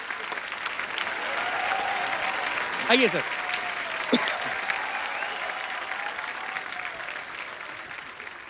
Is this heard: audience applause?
yes